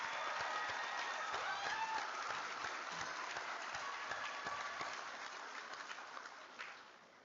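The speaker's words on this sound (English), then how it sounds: "Please give them all a round of applause for their hard work and dedication." Audience applause for honor students at a community college commencement ceremony, a steady wash of many hands clapping that carries on throughout and slowly fades toward the end.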